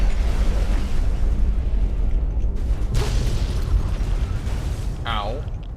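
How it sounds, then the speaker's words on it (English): A big, rumbling explosion in the video game Fallout roars out loud and close, with a sharp burst near its middle. Talking runs underneath it. "That was a big kaboom."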